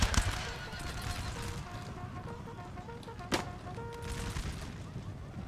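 Massed musket volleys from infantry formed in square in a Napoleonic Total War battle, a ragged crackle of gunfire with one sharp louder burst near the middle, over a busy battlefield din of hooves and clatter.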